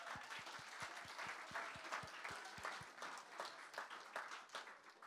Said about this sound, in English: Round of applause, why not?